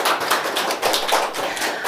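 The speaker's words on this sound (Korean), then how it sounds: "김시덕 선생님을 박수로 맞이해 주시면 감사하겠습니다" Audience applause welcoming a lecturer to a Busan Biennale talk on the port city's history: dense, steady clapping from a seated crowd, sustained evenly with no voices over it.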